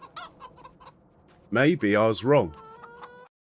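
Chickens in the Farming Simulator 25 video game cluck loudly in a few quick bursts, with someone speaking briefly just before.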